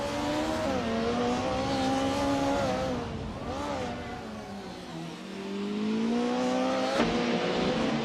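Several race cars, including a 1990 Mercedes 190 Evo 2, rev and accelerate off the start at Anadar Circuit GP in a racing video game, engine pitches climbing and shifting in layered whines, loud and continuous.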